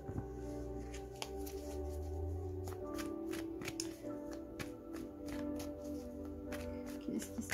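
Tarot cards being shuffled by hand close up, a steady run of crisp riffling and sliding card flicks with no talk over them.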